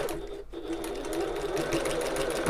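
A sewing machine runs steadily, stitching around the bulky top gusset of a fabric bag with a continuous close mechanical whirr and no talking.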